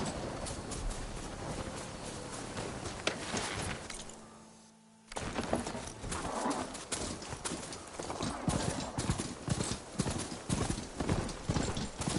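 Machine mount ridden in Horizon Forbidden West, a steady clip-clop of mechanical hooves at a quick trot, loud and continuous, broken by a brief hush before the gait resumes.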